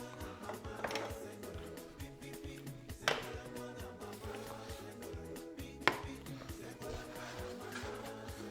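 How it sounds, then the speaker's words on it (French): A knife chops small tomatoes on a cutting board, with a few sharp distinct knocks standing out over a steady low background hum, fairly quiet and close. "Je vais me couper des tomates aussi."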